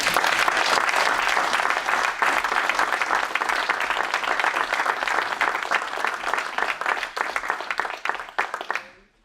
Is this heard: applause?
yes